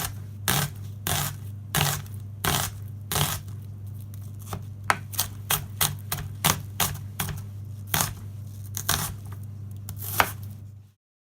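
A knife dices onions rhythmically on a cutting board, sharp uneven taps in quick bursts over a steady low hum.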